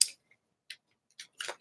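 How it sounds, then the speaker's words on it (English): A Gilded Tarot card deck is shuffled by hand in a few short, crisp papery bursts separated by silence, quiet and close. "shuffle the deck a little bit"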